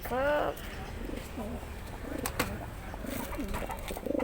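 Pigeons coo in a soft repeating series of low, rounded calls, fairly close, with a brief higher chirp at the start and a voice faintly in the background.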